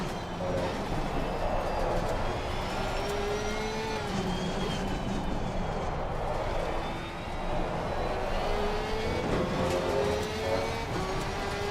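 A Porsche 992 race car engine in the Assetto Corsa Competizione racing game whines with rising and falling tones as it works through gears. The level stays moderate and continuous.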